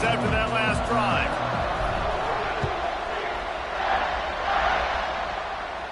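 Crowd noise in a college football video game, a stadium roar with some brief tonal cues, running as a steady wash under a commentator's voice.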